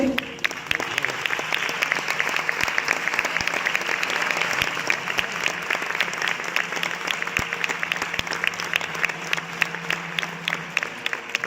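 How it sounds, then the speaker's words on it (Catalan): A crowd at a fallera major presentation ceremony gives sustained applause, a thick, continuous patter of many hands with sharper individual claps standing out, steady for the whole stretch. "aquest aplaudiment és de cor de totes les persones que t'estimen"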